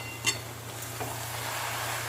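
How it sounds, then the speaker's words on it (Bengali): Fried potatoes and peas being stirred into cabbage in a pan, one soft scrape near the start and a faint sizzle and low hum running underneath, quiet and close. "ভালো করে মিশিয়ে দিচ্ছি।"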